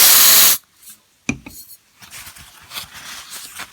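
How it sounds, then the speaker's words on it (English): Axe body spray sprayed onto a video game cartridge: one loud, close hiss lasting about half a second, then quiet handling and rubbing sounds. "We'll spray a little bit on the other end."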